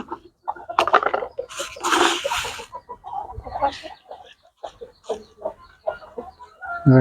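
Bhimavaram breed hens and chicks cluck and squawk close by at feeding time, a busy, uneven chorus of short calls with scattered louder cries throughout.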